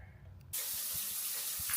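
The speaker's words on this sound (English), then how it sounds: "it's indeed time for a shower" Shower water suddenly starts running, a steady loud hiss of spray that continues to the end after a brief quiet start with faint low thumps.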